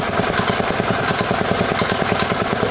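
Transparent research combustion engine with fully variable valve actuation running at partial load, a loud, close, steady mechanical drone with rapid regular firing pulses.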